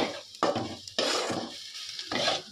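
Greens being stir-fried in a home kitchen pan, with several bursts of scraping and stirring against the metal over a soft sizzle, close and fairly loud, separated by short quiet gaps.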